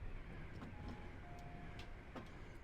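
A train passing in the American Truck Simulator game, heard as a faint rolling rumble with a few light clanks and a thin whine, quiet and distant, with no speech.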